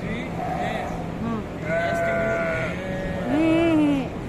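Goats at the Al Wakra Central Market in Doha, Qatar, give several wavering bleats, some near and loud, among crowd murmur and people talking.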